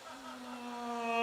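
A comedian's voice mimics a fighter plane flying fast, a sustained buzzing hum that swells steadily louder over about a second, alone without words.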